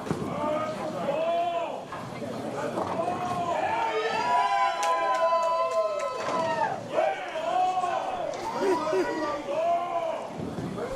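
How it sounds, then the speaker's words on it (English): A crowd at a bowling tournament cheers on a bowler, with lively voices, shouts and clapping mixed with the noise of the alley. A commentator talks over it throughout. "They're cheering that guy on."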